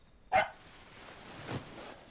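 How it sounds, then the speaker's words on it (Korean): A dog barks twice at night in the John Wick film: a sharp bark, then a softer, duller one about a second later, separated by quiet. "그날 밤 갑자기 어딘가를 향해 짖기 시작하는 데이지"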